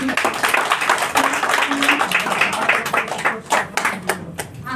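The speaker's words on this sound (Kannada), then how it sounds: "ಜೋರಾದ ಚಪ್ಪಾಳೆ ಬರಲಿ." An audience at a Vivaa Super Mart business event applauds with dense, steady clapping from many hands that thins toward the end, with some voices mixed in.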